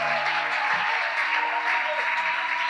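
A church congregation applauding and cheering in acclamation, a dense, continuous roar of clapping and voices that fills the room and holds steady throughout.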